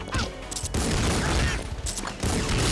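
Rapid gunfire from the Angry Birds Transformers video game, bursts of triple-shot bullets in a dense mechanical rattle that stops briefly partway through and then resumes, with game effects mixed in.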